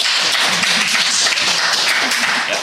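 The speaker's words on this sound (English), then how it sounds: "Don't clap." Audience clapping at a State of the Nation address, a dense, loud burst of many hands clapping together, sustained for a few seconds with a faint voice underneath.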